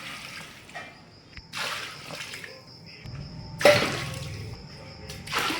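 Water is poured in several splashing bursts into a large pot of restaurant-style chicken biryani, with intermittent gushes and trickles separated by short pauses.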